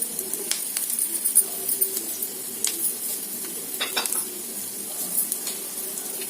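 Spices and basmati rice fry in a pan, a steady close sizzle broken by scraping spatula strokes and light clinks of metal, with no talking.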